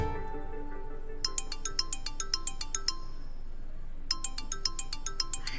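A mobile phone ringtone for an incoming call plays indoors in a domestic drama scene, two bursts of rapid bright chiming tones separated by a short pause, clear and close with no talk.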